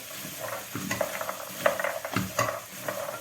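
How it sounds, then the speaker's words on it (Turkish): Onions and chickpeas with meat are stirred in a frying pan: a soft sizzle under uneven scraping and clinking strokes of a utensil against the pan, fairly close and moderately quiet. "Soğanlarımızı da bir iki sefer böyle çevireceğiz."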